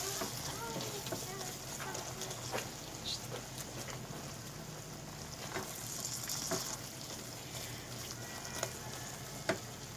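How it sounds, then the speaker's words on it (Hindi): Maghaz, melon seeds, are stirred and mixed in a pan on a low, steady sizzle, with soft scraping strokes and occasional light clicks throughout. "अब हम इसको इस तरह करके अच्छी तरह से हिलाएंगे। हिला के इसको अच्छे से मिक्स कर लेंगे।"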